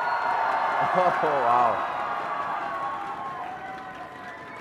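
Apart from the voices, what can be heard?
live esports audience cheering for Team Solo Mid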